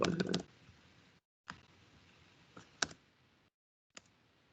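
Typing on a computer keyboard during a programming tutorial, with a quick cluster of clicks, then a few scattered single keystrokes separated by short pauses, close and fairly quiet.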